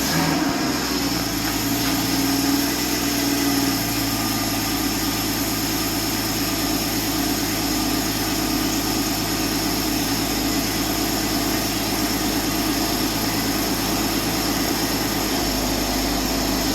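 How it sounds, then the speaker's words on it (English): A Porsche Cayman engine runs steadily with a low, even idle drone as the car is moved under its own power for the first time, close and continuous with no speech. "I'm going to pull it out for the first time, moving it under its own power."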